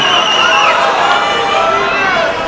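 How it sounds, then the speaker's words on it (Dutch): A crowd at a 2005 darts match between van Barneveld and Adkins, shouting and calling out over a dense, steady din of voices throughout. "was wat geroep terwijl hij stond te gooien"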